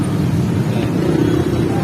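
Road traffic heard from a tricycle in North Caloocan: a steady, dense low engine drone that holds evenly throughout, with no distinct passing vehicles standing out.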